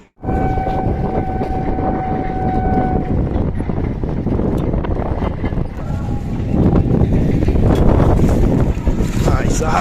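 Hot loo wind blowing hard during a 45-degree heatwave, a steady loud roar of gusts buffeting the microphone throughout, with no talk.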